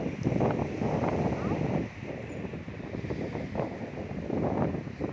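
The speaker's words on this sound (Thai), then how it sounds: "ถ่ายมาได้ยินในเสียงลมด้วย" Strong night wind buffets the microphone on Patong beach, Phuket, a steady low roar with gusty swells and possible surf beneath, continuous throughout without speech.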